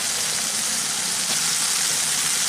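Spice paste frying in a pan for an egg omelette curry, a steady, bright hiss of sizzling oil that continues without a break at close range.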